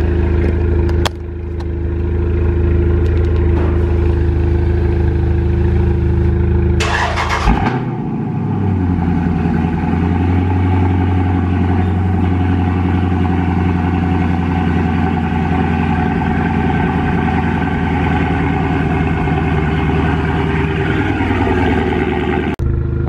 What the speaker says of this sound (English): let me do a cold start real quick on this charger